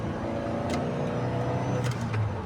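A car drives toward the parking area at Suvarnabhumi Airport, its engine and road rumble a steady, continuous drone filling the whole stretch with no talking.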